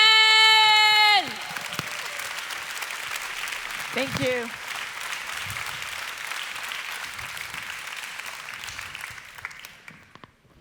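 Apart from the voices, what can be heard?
audience applause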